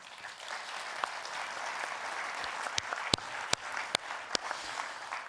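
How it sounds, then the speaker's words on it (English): Conference delegates give a sustained round of applause in a large hall, a broad, even wash of clapping with several loud, sharp single claps near the microphone standing out. "I think they deserve a round of applause."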